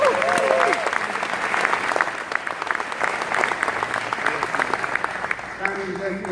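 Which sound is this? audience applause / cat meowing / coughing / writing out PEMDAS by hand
audience applause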